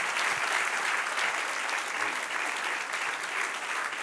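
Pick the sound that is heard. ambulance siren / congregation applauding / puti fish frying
congregation applauding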